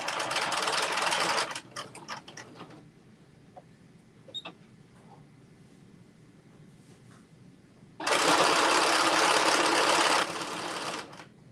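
A sewing machine stitching a Carmen top runs in two bursts of rapid, even whirring, near and fairly loud, separated by a quiet pause with light clicks and handling sounds.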